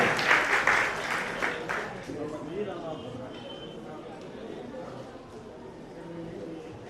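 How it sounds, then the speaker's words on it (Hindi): Applause from an audience at a children's Jain religious play, loudest in the first two seconds and then fading to a softer scattered clatter with voices murmuring underneath. "बच्चों के लिए तालियां जोर से बजा दीजिए एक बार"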